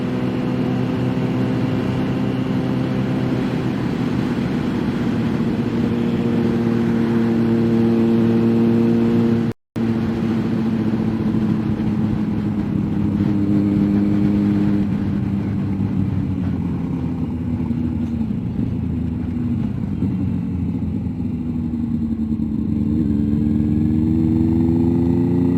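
A car engine drones steadily through a downshift sequence, its low hum stepping and sliding in pitch as the gear lever is worked down, with one sudden brief dropout partway through; no voices.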